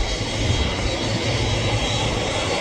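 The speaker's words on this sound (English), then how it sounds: "Emirates Boeing 777 Manchester to Dubai. And it's a turn and burn takeoff." An Emirates Boeing 777 bound from Manchester Airport for Dubai roars through its takeoff run, a loud, steady, broad jet-engine rumble that holds at full power throughout with no voices over it.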